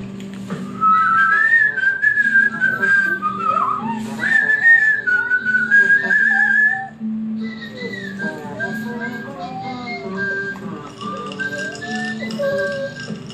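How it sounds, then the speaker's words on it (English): A child whistles a wavering, uneven tune for several seconds, pausing briefly midway, with a low steady hum in the background. "Can you whistle?"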